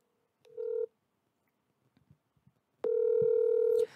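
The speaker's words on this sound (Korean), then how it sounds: "그리고 한번 여기도 전화 연결 한번 해보도록 하겠습니다" Telephone tones play as a call is placed, first a short beep and then, after a quiet gap with faint clicks, a long steady ringback tone, clean and close with no speech.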